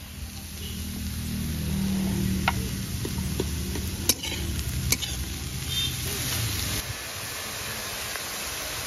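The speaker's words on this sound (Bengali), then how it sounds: "আমার শাক ভাজা হয়ে গেছে, তুলে নেব চিংড়ি মাছের মধ্যেই।" Red amaranth greens frying in a pan with green chillies and salt, a steady close sizzle with occasional sharp clicks of a utensil stirring and scraping throughout.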